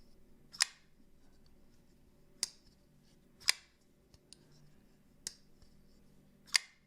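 Carbon fiber Koenig Arius pocketknife flicked open and closed, producing six crisp, close clicks spaced about a second apart against a quiet background.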